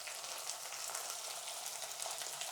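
Onion frying in oil with ginger paste added, a steady close sizzle running unbroken throughout with no one speaking.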